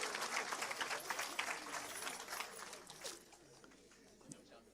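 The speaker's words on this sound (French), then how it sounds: "On acclame le Seigneur." A church congregation applauds and cheers in acclaim of the Lord, a loud burst of clapping that tapers off over a few seconds, with voices rising through it.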